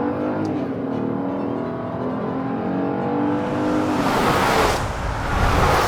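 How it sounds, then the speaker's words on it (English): The turbocharged six-cylinder engine of a 2021 Genesis GV80 accelerates, a steady, loud, slightly coarse drone that rises in pitch and swells toward the end, heard from inside the cabin. "In the GV80, It's not slow. you hear the sound of that turboed 6"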